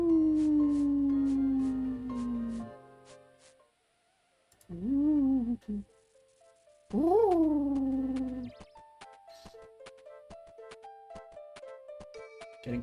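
A large cat gives long, loud, drawn-out yowling meows, one after another with pauses between them, followed by a run of soft tapping clicks.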